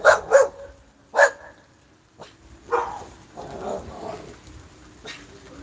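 Dogs nearby let out a few sharp, loud barks in quick bursts, then trail off into softer yips and whimpering sounds.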